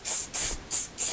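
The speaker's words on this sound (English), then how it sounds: "You don't want to have a consistent spray because you're going to leave blotches." Lacquer sprayed onto wood for a captain's chair reupholstery job, four short hissing bursts in an even rhythm, close and fairly quiet, with no voices.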